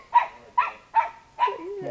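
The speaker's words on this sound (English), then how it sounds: "it's a big bark for a little dog" A small dog barks four times at a steady pace, loud and close, with the last bark trailing into a whine. No one speaks over it.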